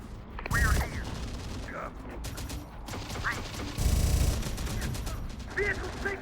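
Gunfire bursts from Terminator: Dark Fate - Defiance crack out in two loud volleys, one early and one near the middle, over a constant churning battle rumble, with voices heard shouting in between.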